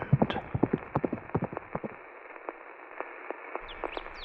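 A black steed carrying a goblin rider clip-clops past at speed, hoofbeats loud and rapid at first, then thinning and growing fainter as they recede into the distance.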